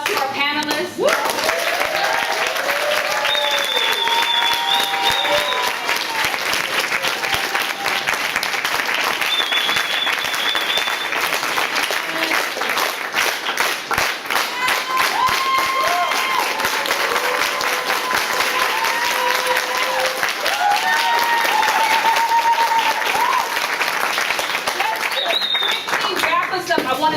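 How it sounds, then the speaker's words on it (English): Audience at a forum applauding its panelists, loud continuous clapping from a sizable crowd with cheers and whoops rising above it, sustained for nearly half a minute. "Round of applause to our panelists."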